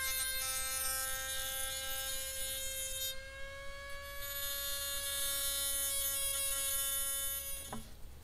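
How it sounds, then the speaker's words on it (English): A Dremel rotary tool whines at a steady high pitch while evening out the rough, freehand-ground edge of a homemade knife blade, dipping slightly under load partway through before cutting off at the end. "so I used a Dremel tool to try and even it out"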